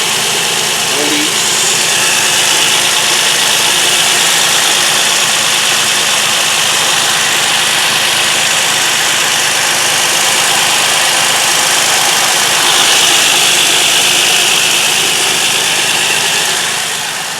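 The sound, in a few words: 2004 Nissan Maxima engine idling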